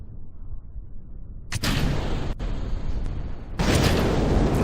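A Wac Corporal sounding rocket launches in Kerbal Space Program, a dense roaring rumble that jumps louder in two stages and keeps blasting steadily, close and loud with no talk.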